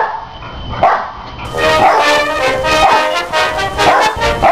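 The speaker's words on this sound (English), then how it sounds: "Good dog. Good doggy." A dog barks in a few spaced, moderately loud bursts against a busy background, with no talking over it.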